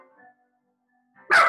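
A small dog at home gives one short, loud bark at the very end after near silence.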